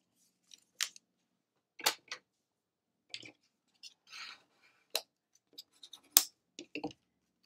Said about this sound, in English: then once you've done that, you're going to fold that side tab